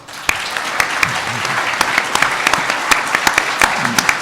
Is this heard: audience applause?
yes